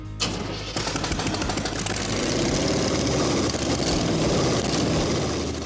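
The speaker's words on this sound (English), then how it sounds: "This engine sounded good." A small custom car's engine cranks over, catches and settles into a steady, loud idle that runs on without a break close by.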